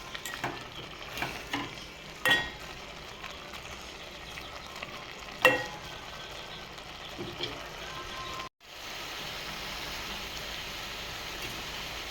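Carrot halwa cooking in milk in a pan, heard as a low continuous simmer and sizzle with a few sharp scraping stirs, a brief cut, then steadier bubbling.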